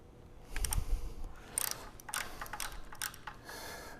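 An Allen key turns a bolt fitted with Nord-Lock locking washers on a Vilter VSS compressor slide valve, producing quiet close clicking, ratcheting and metallic scraping in short irregular bursts with no talking.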